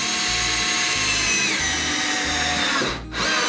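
A power drill drives screws into a wooden planter box, its motor whining loudly and steadily up close with a rhythmic pulsing grind, then briefly cutting out before spinning up again.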